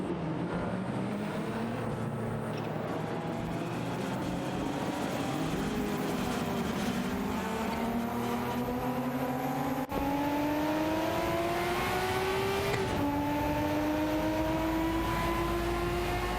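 Race car engines from BMW M3s and a Ford Sierra RS 500 battling closely in a racing video game: several overlapping engine drones climbing steadily in pitch through upshifts, continuous and fairly loud.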